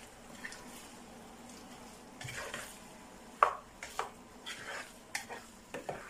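Vegetable and egg sauce frying in a pan, a quiet sizzle under a run of sharp spoon-against-pan clinks and stirring scrapes, close and uneven.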